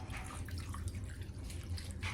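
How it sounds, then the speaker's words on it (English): Cold water running into a cooking pot on a home stove while smothered turkey wings are being prepared, a steady close splashing trickle lasting the whole moment, with no talking over it. "I'm gonna add a little more water in there, just to be on the safe side."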